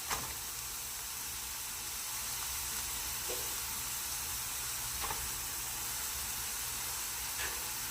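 Onions and peppers for a beef samosa filling fry in a pan with a soft, even sizzle and faint hiss of steam, broken by a few light clicks, with no speech.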